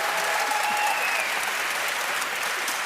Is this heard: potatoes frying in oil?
no